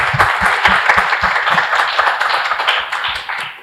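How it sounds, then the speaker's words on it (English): Loud, close applause from an audience at a live literary talk, with crisp, rapid individual claps up front that taper off near the end. "Can we have a round of applause"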